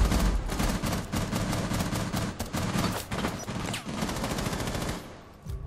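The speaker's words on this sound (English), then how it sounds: "They were shooting us through it." Gunfire rips through a soft wall in the video game Rainbow Six Siege, with close, loud, rapid bursts of shots continuing for several seconds before tapering off.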